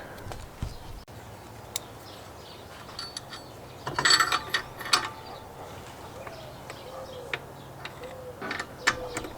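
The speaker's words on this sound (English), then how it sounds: "So let's get this O2 out and then let's unbolt this." Ratchet working on a car exhaust downpipe on a turbocharged B20 VTEC DA9 Integra, giving irregular runs of small clicking and metallic ticks, close and moderately loud, with a busier burst midway and quiet stretches between.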